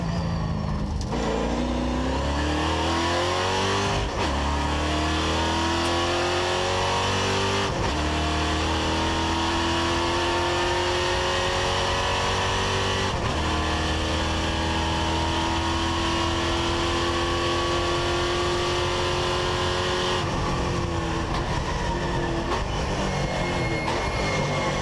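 Onboard a 2013 NASCAR Europe race car driven by Gabellini, the engine roars loud and close throughout, its revs climbing and dropping sharply at each gear change several times across the lap.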